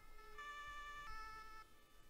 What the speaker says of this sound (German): Auch schön, dass man hier noch so im Hintergrund die Sirene so ein bisschen hört.